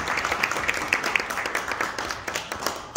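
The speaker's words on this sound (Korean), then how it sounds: "여러분 큰 박수로 우리 신아시아 태평양의 데미안 파바로티, 데미안 덩클리 큰 박수로 모시고 싶습니다." Big applause welcoming a performer onto a stage at a celebration: dense, continuous clapping from a sizeable audience, fairly loud and steady throughout with a few faint cheers mixed in.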